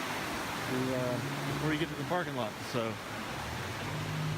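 Creek rushing steadily beside a hiking trail in Great Smoky Mountain National Park, a broad continuous wash of water heard close while someone talks over it.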